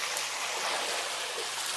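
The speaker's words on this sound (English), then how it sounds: "Now I gotta dump this water out." Water dumped out of a container at an off-grid woodland homestead, a steady close splashing pour that runs unbroken for the whole moment, loud and broadband like a rushing stream.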